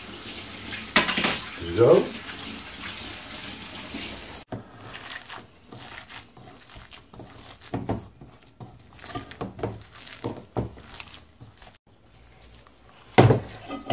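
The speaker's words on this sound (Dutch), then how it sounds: "Dan doe ik toch de zekerheid nog even een keer mijn handen wassen." Hands washed under a running kitchen tap while making meatballs, a soft trickle of water mixed with clinking dishes and cutlery, louder clatter near the start and end, with a brief spoken word.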